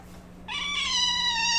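A house cat with its claw stuck in a person's leg lets out a sudden loud, drawn-out yowl, a single sharp rising cry close to the microphone with no talking.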